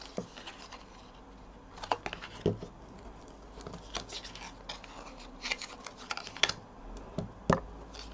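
A folding tool is rubbed along the creases of black foil to sharpen the folds, producing irregular close scraping taps and short rubs at a quiet level with no talking.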